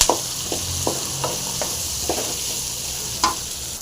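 Ginger and garlic frying in a pan, a constant close sizzle with a string of scraping stirring strokes at an uneven rhythm, no talking.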